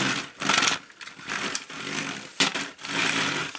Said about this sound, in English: the treads make that motor sound when you roll it